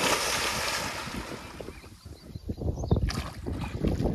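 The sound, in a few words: splashing of someone diving into a farm swimming pool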